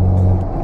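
A manual-transmission car accelerating on a highway climbing uphill, a short loud engine drone with a steady low hum that eases off slightly, heard up close from inside.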